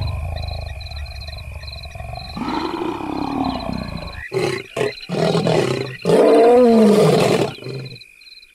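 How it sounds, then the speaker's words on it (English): A lion's low, thundering roar builds through a series of deep, prolonged grunting calls, loud and close, with a faint high tone running underneath. "the lion's blood-curdling, low-pitched, thundering roar"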